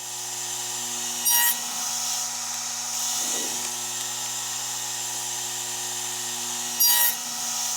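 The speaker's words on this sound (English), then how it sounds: "Here I'm rough cutting some cherry splines." A radial arm saw rough-cuts cherry wood splines, a loud, steady motor hum with a sustained tone, broken by a few brief, harsher bursts as the blade bites into the wood.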